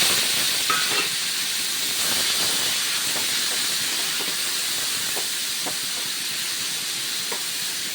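Broad beans with tempering seeds fry in hot oil in a pan, giving a steady, close, continuous hiss and sizzle with faint crackles throughout, with no voices.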